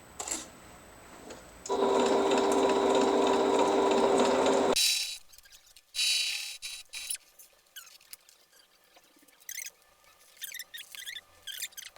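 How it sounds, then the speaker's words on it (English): A sewing machine back-stitching fabric for a McCall's M5193 pattern runs in one steady, loud burst of about three seconds, then falls to quieter clicks and handling noises. "then I sewed here, back stitching at the beginning and the end"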